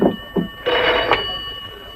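An old telephone bell rings in a 1960s French television drama, a short loud metallic trill with a couple of quick bursts followed by a longer ring, heard close and alone.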